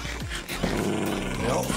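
A wild dog in the Minecraft SevTech modpack game growls and snarls loudly in short, rough bursts, close and aggressive, with a brief stretch of video-game sound between the growls.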